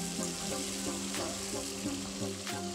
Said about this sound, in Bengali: তেলটা গরম হয়ে গেছে, আলুগুলো দিয়ে প্রথমে আলুটা ভেজে নেব।